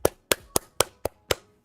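Six sharp hand claps at an even, brisk pace, isolated and fairly quiet, with no other sound between them.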